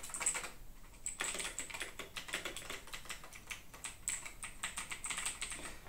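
Rapid typing on a Razer BlackWidow 2019 mechanical keyboard with green clicky switches, a dense run of sharp key clicks going on steadily for the whole stretch, close up and on its own.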